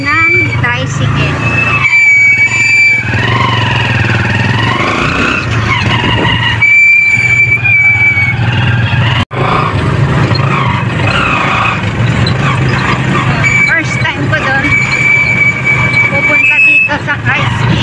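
Motorized tricycle riding along a narrow subdivision street in Novaliches, Philippines, its loud, continuous engine drone filling the whole stretch while voices talk over it.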